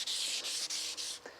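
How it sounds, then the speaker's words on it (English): Wet sandpaper rubs back and forth along a marble tile edge in four or five steady, even strokes, close and fairly quiet, with a soft hissing scrape on each pass. "So I'm going to actually get my sandpaper very wet. I'll take and spray this a little bit"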